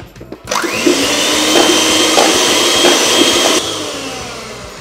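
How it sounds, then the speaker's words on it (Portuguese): An electric mixer whirs loudly and steadily as it beats six egg whites in a bowl, starting abruptly and keeping an even whine before easing off near the end. "Num batedor, vamos começar por bater as 6 claras"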